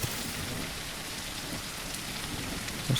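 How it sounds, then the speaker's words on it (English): Heavy rain in the video game The Isle, a dense, steady hiss of falling water at moderate level, with a brief louder thump near the end and no speech. "I was quite pleased when it started to rain quite heavy."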